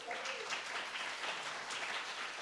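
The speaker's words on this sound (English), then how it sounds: "Let's have a round of applause." An audience applauds a clarinet and sax player at a klezmer performance, a steady, moderately loud patter of many hands clapping throughout.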